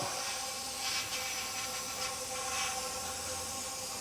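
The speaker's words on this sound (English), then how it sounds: "I'm just using like middle of the road brake cleaner here" Brake cleaner hisses from an aerosol can onto a motorcycle fork tube in one continuous, close spray over a faint background hum.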